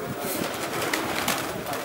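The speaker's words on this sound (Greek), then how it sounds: "Έχουμε εδώ τα πουλιά που γυρίσανε αμέσως." Racing pigeons back in their loft after a flight, cooing softly and repeatedly at close range over a busy rustling background.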